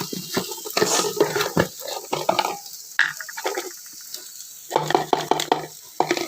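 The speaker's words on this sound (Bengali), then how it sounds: "একটা আলু কাট ভাজবো তো তাই জন্য অল্প তেল দিয়েছি" Cut potatoes stir and clatter in a pan with a little oil, with bursts of sizzling, irregular scraping strokes between short pauses, close by.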